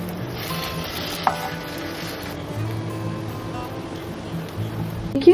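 Soya kebabs frying in an oiled pan, a soft steady sizzle with faint stirring and a few light clinks, close and alone without talk.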